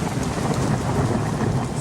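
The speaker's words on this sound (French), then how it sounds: "Maintenant, ça suffit la pluie." Steady heavy rain pours down with a low thunder rumble beneath, a dense, continuous wash of sound throughout the short stretch.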